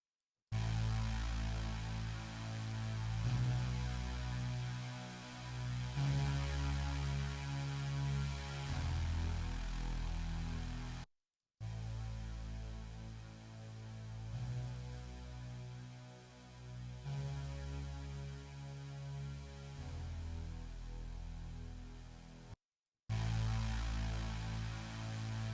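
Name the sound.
low saw synth sound with distortion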